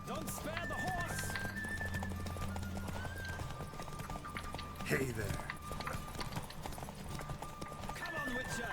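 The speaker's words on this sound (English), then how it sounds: "Don't spare the horse." A galloping horse pounds along in The Witcher 3, its steady hoofbeats running beneath music while a voice talks over it, with a brief louder burst midway.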